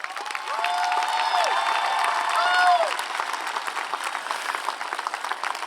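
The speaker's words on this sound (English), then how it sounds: "Can we another round of applause?" Crowd applause and cheering at a high school graduation ceremony, clapping mixed with whistles and shouts that swell and then thin out into scattered claps.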